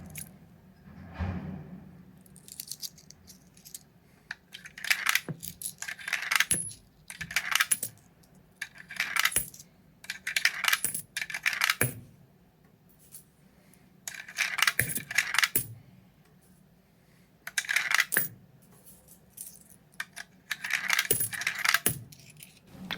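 Coins are fed one after another into a CH-926 multi coin mechanism, each insertion giving a crisp metallic clatter and drop. The drops come in clusters with brief quiet gaps between them, close and distinct.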